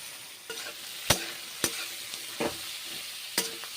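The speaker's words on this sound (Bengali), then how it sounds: "ঝিঙে দিয়ে কষে নিচ্ছি" Ridge gourd being sautéed with fried egg in a pan: a steady sizzle broken by a handful of sharp spatula scrapes and knocks against the metal, close and fairly loud, with no voices.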